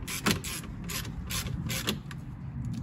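Bolts being passed by hand into the flywheel mount of a BMW 320d with the B47 engine, a series of close metallic clicks and ratchet-like rattles over a steady workshop hum, without talking.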